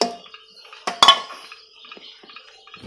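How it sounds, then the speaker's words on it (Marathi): Masoor lentils going into a metal pressure cooker for Kolhapuri-style akkha masoor: a few sharp metallic clinks and rattles, one louder clatter in the middle, then lighter scattered taps in a quiet kitchen. "आपण शिजायला कुकरला घालूया मसूर"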